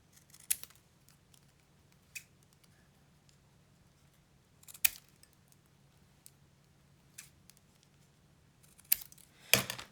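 Scissors snipping through paper and manila file-folder stock while a desk set is made: a few sparse, quiet, crisp cuts spaced several seconds apart, the last ones closer together, over a faint steady hum with no talking.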